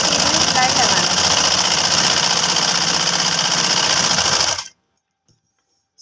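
A sewing machine runs continuously, stitching a folded kurti trouser hem with a loud, even motor whir and rapid needle rhythm, then stops abruptly into silence.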